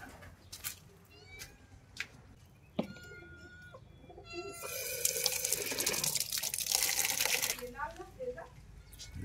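Water runs from a tap into a container, a steady broadband rush for about three seconds midway, preceded by a cat's meows and chirping birds and followed by a few faint sounds.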